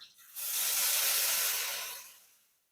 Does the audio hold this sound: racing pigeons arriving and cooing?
no